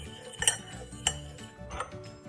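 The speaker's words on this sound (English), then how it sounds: "just mix the pepper and the salt with the flour" Salt and cracked pepper being mixed into flour in a bowl, heard as light scraping stirs punctuated by several bright clinks of utensil against the bowl, close and with no talking.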